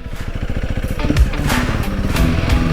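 Motorcycle engine idling up close, a rough rapid chugging pulse with clattering mechanical knocks and brief louder bursts over the steady beat.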